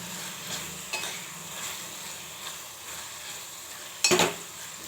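Green chilli paste being stirred into brinjal curry in a pan: soft, quiet scraping and mixing, then a sharp utensil clink against the pan near the end.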